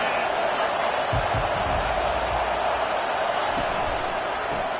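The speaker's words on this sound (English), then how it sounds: "This crowd trying to make life miserable for this offense." Stadium crowd at a college football game roars steadily as a loud, continuous wash of cheering throughout, with a few dull thumps underneath and no spoken words.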